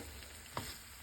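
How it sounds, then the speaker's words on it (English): Chopped onion and garlic sauté in a pan, giving a faint, steady sizzle with a brief stirring scrape partway through and no voices. "Here I'm just about to saute onion, and I forgot to mention earlier I did use a tablespoon of garlic."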